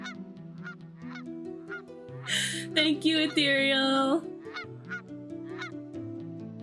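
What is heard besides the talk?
goose honking outdoors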